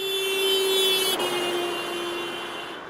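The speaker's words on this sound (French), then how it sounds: "une voiture actionne son klaxon en passant devant elle" A car sounds its horn continuously while driving past, the steady tone holding high as it approaches, then dropping abruptly in pitch as it passes and fading slightly as it moves away.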